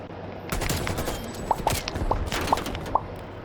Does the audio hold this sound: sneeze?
no